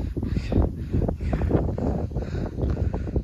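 Strong wind gusts across a mountain trek near Bhadraj temple in Mussoorie, buffeting the microphone in loud, uneven rumbling bursts with no voices heard.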